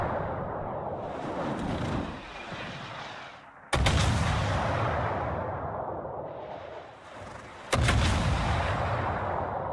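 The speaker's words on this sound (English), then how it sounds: "Those guns sound pretty good." Big naval guns boom in World of Warships, two sharp heavy blasts about four seconds apart, each cutting through a steady roar of sea and engine rumble and trailing off into a long rolling echo.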